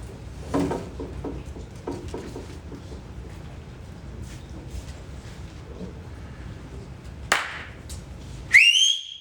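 Loud human whistling rings out near the end, a sharp rising whistle followed by a shrill sliding one, after quiet room noise with scattered clatter in a classroom.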